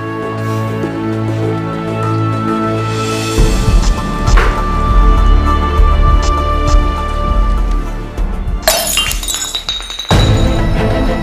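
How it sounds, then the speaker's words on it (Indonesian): A drinking glass knocked over and shattering, a sudden loud crash with a burst of breaking glass, followed by a second harsh impact, heard over dramatic background music. "Sengaja menyenggol gelas sampai pecah kayak gini."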